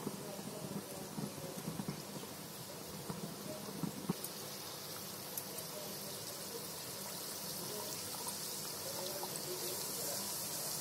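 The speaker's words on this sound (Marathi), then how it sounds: "हे कसे आरामात भाजायला लागतात।" Wheat flour namkeen snacks frying in hot oil over a medium gas flame, a steady soft sizzle and bubbling hiss that grows slightly brighter over time, with a few faint clinks.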